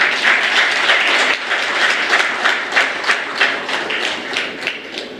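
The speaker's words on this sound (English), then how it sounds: "Can we have a round of applause, please?" Audience at a women entrepreneurs' event clapping together, a loud, close round of applause with distinct, rhythmic hand claps that continue throughout without any talking.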